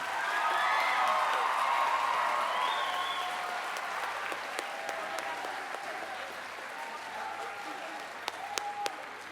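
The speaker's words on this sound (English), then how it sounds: "And one more round of applause for this year's State 4-H Band." A concert audience applauds the 2019 Indiana State 4-H Band, loud sustained clapping with a few whoops early on that gradually thins and fades, ending in scattered claps.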